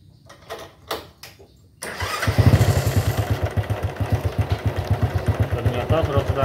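Honda motorcycle engine cranking after a few knocks, then catching and running in a loud, close, rapid rhythmic idle chug that continues steadily.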